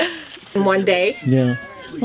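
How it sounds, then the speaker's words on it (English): A black cat meows loudly and close by, giving two or three drawn-out, wavering cries while people speak briefly over it. "Oh, shut up, cat."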